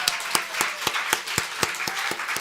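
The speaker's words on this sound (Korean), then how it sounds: "큰 박수로." Brisk rhythmic clapping from a congregation at a church Christmas service, about ten sharp even claps in a bright room, with no voices over it.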